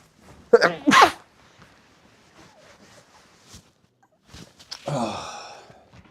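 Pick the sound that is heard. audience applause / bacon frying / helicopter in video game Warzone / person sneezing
person sneezing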